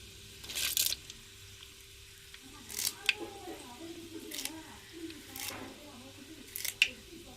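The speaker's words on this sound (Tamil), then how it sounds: "எண்ணெய் சூடாயிருச்சுங்க, கடுகு உளுந்து போட்டுக்கிறோம்." Mustard seeds and urad dal hit hot oil while tempering a village-style dried fish kuzhambu, giving sharp, scattered crackling bursts at irregular intervals over a low, steady background hum.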